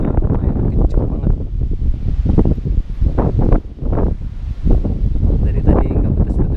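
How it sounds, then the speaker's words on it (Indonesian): Strong gusty wind buffets the microphone on a mountain trail up Bukit Sekunir in Dieng, roaring loud and nearly constant with a short lull, while a person speaks under it. "ini anginnya lumayan kencang banget"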